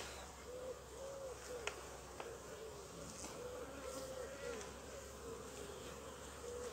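Honeybees buzzing steadily around an open hive as the honey supers are inspected, a faint continuous drone with an occasional light click.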